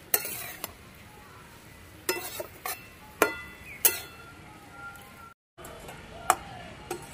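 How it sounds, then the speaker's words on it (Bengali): A utensil stirs winter vegetables with spices and a little water in a pot for a dried loitta fish dish. Scraping clinks come at irregular intervals over a soft background hiss. "মশলা দিয়ে ভালো করে সবকিছু মিশিয়ে নিচ্ছি।"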